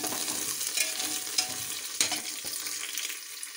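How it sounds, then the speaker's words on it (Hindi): Cauliflower florets fry in a pan for vegetable pulao, with a bright, continuous sizzle broken by a few scraping stirs of the spatula, heard up close with no voices. "अब इसमें हम अपनी गोभी डाल लेते हैं, इसे भी 2 मिनट तक भून लें।"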